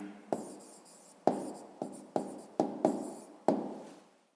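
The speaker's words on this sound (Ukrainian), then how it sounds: "Так, ну і записуємо тоді відповідь." A pen writes an answer in a notebook in a few quick bursts of soft scratching strokes, each starting with a light tap, close and quiet, with short pauses between them.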